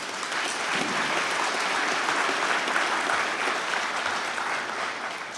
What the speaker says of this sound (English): Let's give ourselves a round of applause for that.